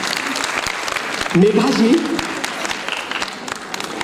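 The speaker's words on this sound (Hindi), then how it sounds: "तालियों के साथ अभिवादन" An audience at a dance remembrance event claps, warm applause swelling briefly and then fading while someone speaks over it on a microphone.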